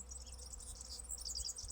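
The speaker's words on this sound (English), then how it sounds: "The sound of the bees," Bees buzzing outdoors in a steady, close hum, with faint chirps and a soft background drone mixed in; no talking.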